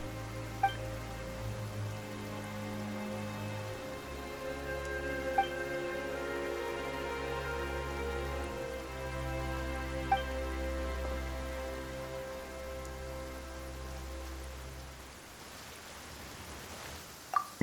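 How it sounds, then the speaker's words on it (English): Steady rain falls in the video game Genshin Impact, a soft, even hiss of drops on surfaces with a low ambient drone under it and a few faint isolated clicks, quiet and continuous with no talking. "Why is it raining all of a sudden?"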